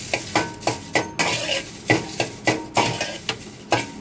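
Curry leaves are stirred in a pan with a utensil, giving a steady series of sharp scraping clinks about twice a second over a faint dry rustle, close and clear.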